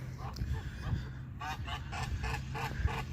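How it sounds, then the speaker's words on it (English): Geese honk in a city park, a run of repeated nasal calls spaced at irregular intervals and fairly close, over low wind and ambient rumble. "Come on, geese."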